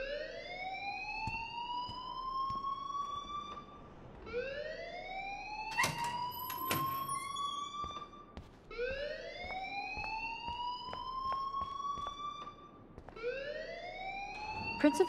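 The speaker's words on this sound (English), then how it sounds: "please turn off that alarm" A fire alarm wails through a school hallway in the Life Is Strange video game on PS4, its repeating rising siren sweeps cycling steadily and loudly, with a brief clatter of other sounds in the middle.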